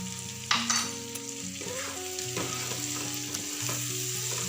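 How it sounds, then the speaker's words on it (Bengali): Pieces of chicken sizzle in a pan while being stirred and turned, with steady close frying crackle broken by scraping stirs and a few clinks, and no talking. "এটাকে একবার নেড়ে চেক করে দেবো।"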